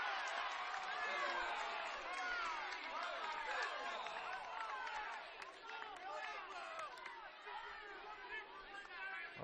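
Crowd noise fills the gym at a girls' high school basketball sectional final, a steady roar of chatter and shouting that swells and dips, close and loud throughout.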